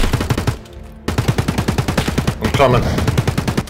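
Rapid automatic gunfire rattles in steady bursts during an ambush in Escape from Tarkov, loud and close with a brief pause in the middle, while a player's voice speaks briefly over the shots.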